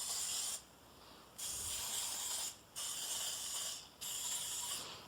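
Cooking spray hisses into a muffin tin in four separate bursts, each lasting roughly a second, close and steady with short silent gaps between.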